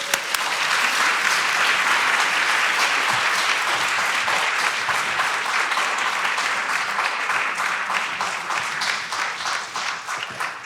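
An audience bursts into sustained applause welcoming a speaker to the stage at a museum talk, dense steady clapping from a large crowd holding level for about ten seconds before gradually thinning.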